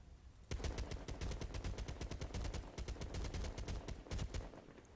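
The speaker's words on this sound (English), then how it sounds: "And if you go back and you burst fire," Rifle fired in repeated quick bursts in the Medal of Honor Beta shooter game, a dense rapid crackle of close shots with brief gaps, sounding alone.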